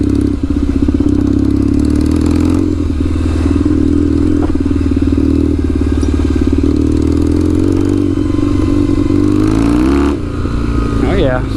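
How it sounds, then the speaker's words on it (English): A Kawasaki KZ750 scrambler on knobby tyres rides through mud, its engine droning loud and steady throughout with clattering thumps and scrapes, rising and revving near the end. "let's go around the mud"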